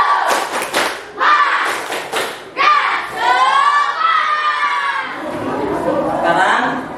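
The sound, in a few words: children doing a rhythmic 'tepuk semangat' clapping chant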